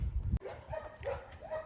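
Puppies bark and yip several times in quick, uneven bursts, close by and fairly clear, after a sharp knock at the start.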